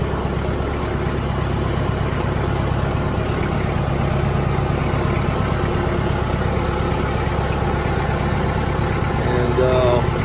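A tractor engine idles with a steady low rumble while the machine backs up, the continuous drone close and even throughout, with a faint higher whine near the end.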